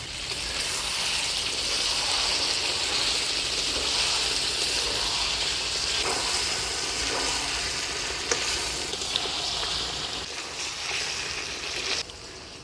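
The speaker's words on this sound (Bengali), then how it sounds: "মাংসটা আমি ভালোভাবে কষিয়ে নিলাম।" Chicken meat frying in a pan for Bengali kosha mangsho, a steady loud sizzle that runs throughout with occasional stirring clinks and scrapes near the end.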